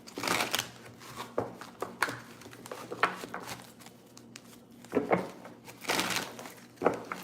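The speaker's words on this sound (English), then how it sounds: "Let's do a few more shuffles here." Oracle cards are shuffled by hand in quick papery bursts of riffling and slapping, close and fairly soft, with short pauses between rounds and no talk.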